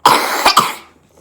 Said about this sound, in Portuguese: Põe a mão, o braço na frente pra tossir.